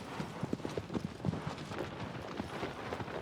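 Horse hooves clip-clop in steady, fairly close rhythm while riding through the open landscape of the Shadow of the Colossus video game, the pattern loosening briefly in the middle of the ride.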